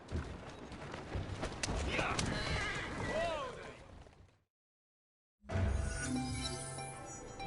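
Horse neighing and whinnying in the video game Assassin's Creed Syndicate, with clip-clopping hooves, under a man's calm speech; a loud whinny mid-clip, a brief silence, then hoof and movement sounds return.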